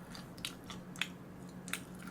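Crispy fried chicken gizzards crunch in three short, sharp bites during a quiet drinking meal with fish cake soup, each crackle close and distinct against a low steady hum.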